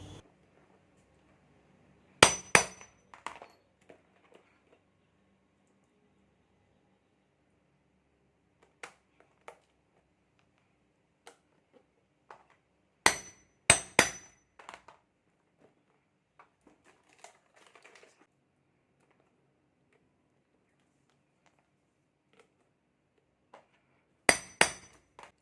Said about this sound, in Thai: แล้วก็ตอกให้แน่นเลยนะคะ